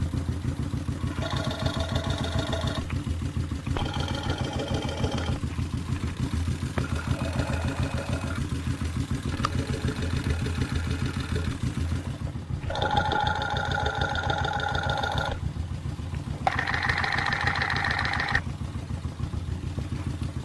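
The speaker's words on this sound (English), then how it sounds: "I'm moving it up the length of the exhaust, from the back of the motorcycle up to the front." A motorcycle engine idles right up close, a steady throbbing rumble with a mechanical clatter, bursts of higher whine recurring every couple of seconds.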